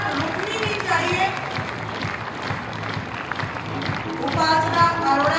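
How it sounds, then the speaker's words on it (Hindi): An audience applauds at an awards ceremony honouring winning Special Olympics Bharat athletes, a dense sustained clapping crowd over about five seconds, swelling louder toward the end, with announcer speech faintly mixed in. "तालियों की गुनगुनाहट, गड़गड़ाहट रुकनी नहीं चाहिए।"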